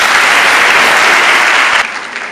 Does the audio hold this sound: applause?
yes